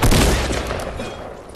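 A burst of gunfire in the video game Fortnite, loud and booming at the start, then decaying into a fading rumble over about a second and a half, with no talking.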